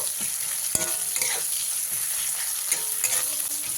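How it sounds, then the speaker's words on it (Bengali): Chopped onions frying in a pan over medium flame, a constant close sizzle with quick scraping stirs and a few light clicks of the spatula. "পেঁয়াজগুলোকেও আমি একটু লালচে করেই ভেজে নেব"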